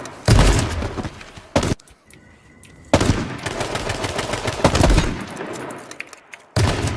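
Rapid automatic gunfire in the Just Survive video game, bursts of close, loud shots separated by short gaps, with a brief quieter lull near the middle.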